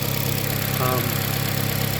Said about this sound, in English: Here, engine sounds good. There's no rattles.